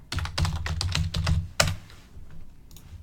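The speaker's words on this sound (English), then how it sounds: "You can then type in the city." Someone types a city name into an order form on a computer keyboard, a quick run of close, crisp keystrokes that ends in one sharper tap and then falls quiet.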